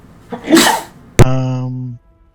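A single sharp sneeze, close by during a tabletop role-playing game session, with a breathy intake followed by an abrupt burst and a brief voiced trailing tone.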